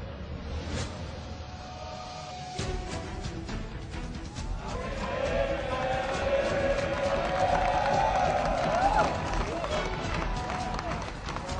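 Football supporters of Muang Thong United roar in the stadium during a match against Khon Kaen FC, a dense crowd wash that swells louder partway through and holds steady with chanting.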